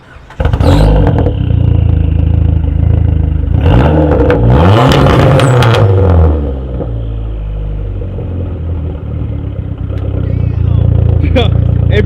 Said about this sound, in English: You want to give him a nice little exhaust clip?